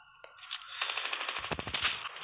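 Sniper rifle fire in the video game Call of Duty Mobile: a quick run of sharp, close shots with metallic clatter over about two seconds, no voices.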